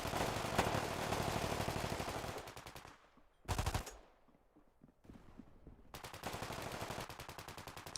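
In the video game Deep Rock Galactic, an AK-74 fires long, loud rapid-fire automatic bursts, broken by brief pauses, a single sharp blast and a quieter stretch before the rattling gunfire resumes.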